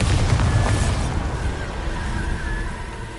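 Bombarda blasting spell explosion in Hogwarts Legacy: a heavy, rumbling boom right at the start that decays into a low, lingering roar and faint debris rattle over a few seconds.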